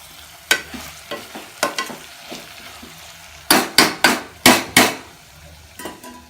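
A utensil stirs vegetables boiling in a pressure cooker for cauliflower biryani, making scattered scraping knocks that bunch into a quicker run of loud clacks near the middle, with no talk.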